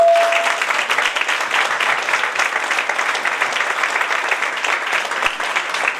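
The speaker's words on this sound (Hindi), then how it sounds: "तो एक बार जोरदार तालियां प्लीज।" An audience at a skincare and aromatherapy class in Hisar, Haryana applauds loudly to welcome a doctor. Many hands clap in a dense, sustained wash, with a brief tone at the very start.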